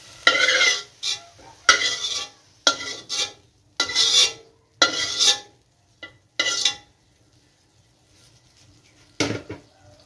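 Butter sautéing in a home pan, with bursts of stirring and utensil scrapes against the pan in repeated short strokes, soft sizzle between them, close and fairly loud with pauses of quiet.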